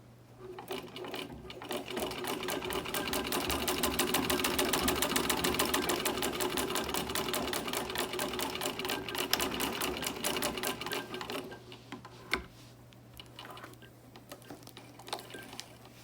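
A Singer 15-88 sewing machine with a size 12 needle stitches regular quilter's cotton in a steady, fast mechanical whir of rapid needle clicks that runs for about eleven seconds, then slows and stops with a few scattered clunks.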